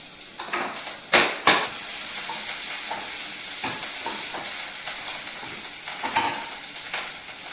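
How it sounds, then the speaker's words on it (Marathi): Cumin and chillies crackle and sizzle in hot ghee, with a few sharp pops early on and a steady frying hiss underneath, close up. "मी तुपाचीच फोडणी देते त्याच्यामध्ये टाकलं जिरं त्यानंतर ह्या कापलेल्या मिरच्या"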